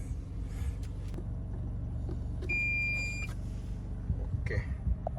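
A GPS tracker device for rental cars beeps when switched on, a single clear electronic tone lasting under a second over a low idling car rumble and faint clicks.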